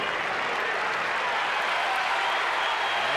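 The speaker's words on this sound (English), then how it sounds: "This crowd roaring, trying to keep their man in this match" Tennis crowd at a US Open final roaring steadily, a dense, loud wall of cheering and applause that holds without pause for the few seconds, with no voices distinguishable above it.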